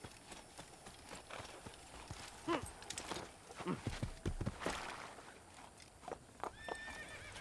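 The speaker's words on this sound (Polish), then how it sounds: "A jakiś konik jest." Horse hooves clip-clopping and a horse neighing in the video game Assassin's Creed, fairly quiet, with a whinny near the end and faint talk underneath.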